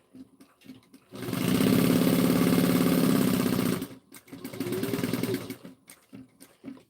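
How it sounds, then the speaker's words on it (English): A sewing machine stitches down the long edges of a fabric bag strap, a fast steady motor whir for about three seconds, then a short pause and a second shorter burst, close and loud. "And I'm going to sew this down at 3/8 of an inch down both long edges."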